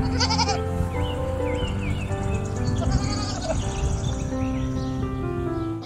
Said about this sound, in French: La chèvre est un mammifère herbivore